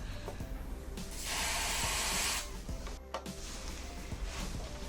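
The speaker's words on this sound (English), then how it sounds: "I could use the cold spray to modify the values of the temperature and the humidity of the" Cold spray aimed at a temperature and humidity sensor gives one steady, loud hissing burst of about a second, standing out against low background noise.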